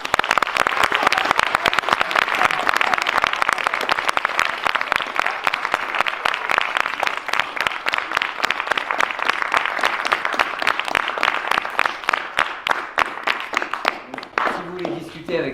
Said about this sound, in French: pour moi, ils méritent vraiment des applaudissements chaleureux de votre part